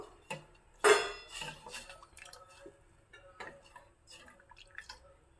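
Cooked tomato and toor dal are mashed in a pot, giving a run of soft irregular clinks and taps of a utensil against the vessel, one sharper knock early, otherwise quiet and close.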